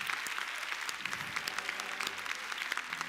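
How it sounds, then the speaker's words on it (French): A theatre audience at a live comedy show in Abidjan claps steadily for a performer being introduced. The dense applause is moderately loud, with no voices standing out. "Tyson, sous vos applaudissements."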